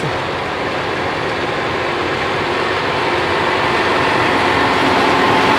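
A John Deere tractor engine runs on a small farm as the machine drives along, giving a steady, loud, continuous broadband roar with no pauses and no voices.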